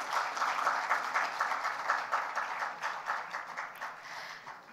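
A gala audience applauds a teen award finalist coming on stage, sustained crowd clapping with a faint rhythmic pulse, loud and steady and gradually easing toward the end.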